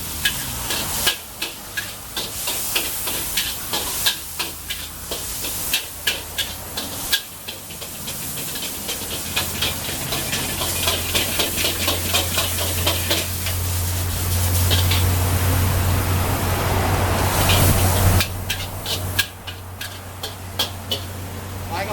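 Old-style pad kaprao, holy basil stir-fry, cooking in a hot pan: a continuous hissing sizzle with repeated rhythmic knocks and scrapes of a spatula against the metal, loud and close, swelling to a strong steam hiss midway.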